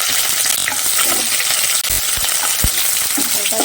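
Whole spices (bay leaf, cinnamon stick and cloves) sizzling in hot oil in a pan for pulao tempering, a loud close crackle with stirring clatter and a few sharp utensil knocks, no talk.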